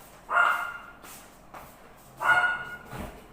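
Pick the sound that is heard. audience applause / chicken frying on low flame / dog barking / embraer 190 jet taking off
dog barking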